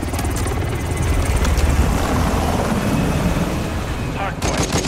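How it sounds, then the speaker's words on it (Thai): A helicopter descends in a Call of Duty: Modern Warfare II multiplayer match, a loud continuous rotor roar filling the scene, with scattered gunfire crackling over it and a burst of shots near the end. "นู่นเฮลิคอปเตอร์ลงมาเลย"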